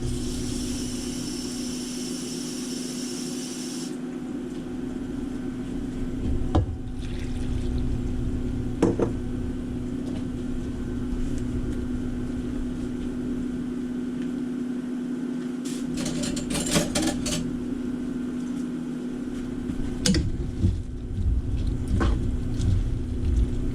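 Water pours steadily while beef stew is being made in a kitchen, a continuous liquid rush over a constant background hum, with a few brief clinks and knocks along the way and no talk.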